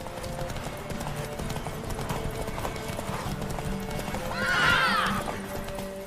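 Steady clip-clop of galloping hooves in The Witcher 3 video game runs throughout, with a loud horse whinny rising near the end over a low background hum.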